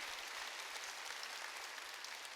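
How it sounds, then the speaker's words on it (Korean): Church congregation applauding during a Sunday worship service: a steady, dense wash of many hands clapping at even volume throughout, with no voices standing out. "믿으면 박수로 하나님께 영광 돌려줘."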